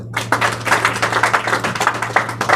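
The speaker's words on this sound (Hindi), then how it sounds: "ज़ोरदार तालियां अपने लिए।" A church congregation at a Christian sermon on fasting claps loudly and continuously, a dense wash of many hands close by, with a steady low hum running underneath.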